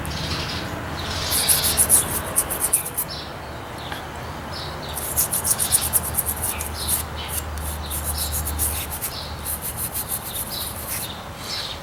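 A soaked axe head, eye included, is scrubbed by hand in steady back-and-forth strokes, a rough continuous rubbing with brief louder bursts, close and without speech.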